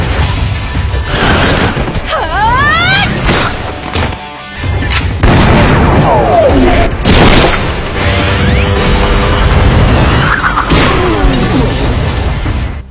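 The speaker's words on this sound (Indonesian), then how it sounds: "suara tembakan itu berasal dari tim Shizuka yang lagi perang melawan para zombie" Gunfire from Shizuka's team battling zombies in an anime, heard as loud, dense crashes and booms continuing throughout, mixed with whooshing sweeps and busy action effects.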